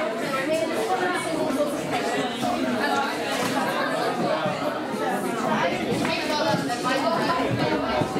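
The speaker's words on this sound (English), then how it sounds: "Well, we've got a great crowd here." Crowd chatter fills a comic con cosplay contest hall, a dense, steady murmur of many overlapping voices that continues without a break.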